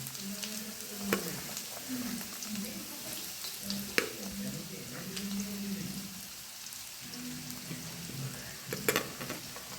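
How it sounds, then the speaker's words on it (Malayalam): Chopped ginger and curry leaves frying in a pan, giving a steady close sizzle with scattered crackles and a few sharp utensil knocks, no voices over it. "അതിലേക്ക് വേപ്പിലിട്ട് ഇഞ്ചി, നമ്മൾ അരിഞ്ഞു വെച്ച ഇഞ്ചിയാണ് ഇടുന്നത്"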